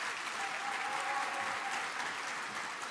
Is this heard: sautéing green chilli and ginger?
no